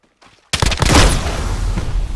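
Gunfire in a shooter video game: a quiet lead-in, then a sudden heavy burst of shots and rumbling explosions that keeps roaring loudly to the end.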